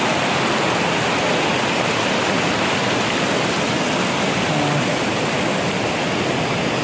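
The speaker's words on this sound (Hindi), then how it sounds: "पूरी ग्लेशियर का पानी है ये" Glacier meltwater rushes down a fast stream on the Hemkund Sahib trail in Uttarakhand, a dense, loud, unbroken roar of water heard close up with nothing else audible.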